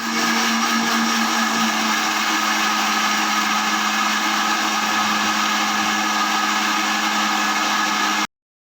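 A mixer grinder grinding soaked rice and flattened rice into batter whirs loudly and steadily, a dense high-pitched motor drone that runs without pause, then cuts off abruptly near the end.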